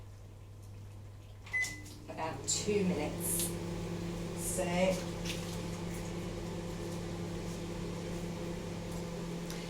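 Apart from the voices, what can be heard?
microwave oven running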